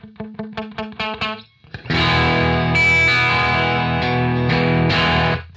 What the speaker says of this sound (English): you can just hear the thinness of that